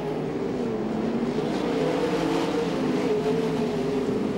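A sprint car engine, the Rocket Industries number 21, winds up hard during a dirt-track A-Main race, a steady loud roar with shifting revs that blends with other cars running nearby.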